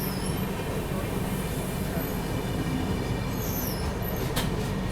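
The Ahmedabad Gorakhpur Express, an Indian passenger train, runs on the parallel track beside a moving train. It makes a steady, loud rumble of wheels and carriages that fills the whole stretch, with a faint metallic squeal near the end.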